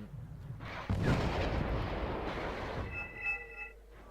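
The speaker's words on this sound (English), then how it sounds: "God, the artillery. Why is the artillery hitting us" Artillery fire in the multiplayer wargame Wargame Red Dragon, a heavy rumbling barrage of booms and blasts rolling for a few seconds, then giving way to a thin tonal whine near the end.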